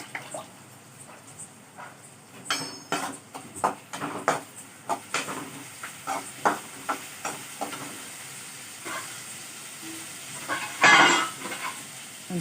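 Onions frying in a pan while being stirred give off soft sizzling and a string of clicking scrapes, close but quiet, with a brief louder rattle near the end and no voices.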